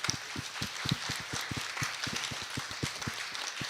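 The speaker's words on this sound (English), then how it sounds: "I would like to give a hand of applause for all of you" An audience at a pro-European democracy event in Romania claps. The sharp hand claps are fairly close and come in a quick, even, almost rhythmic run against a soft background.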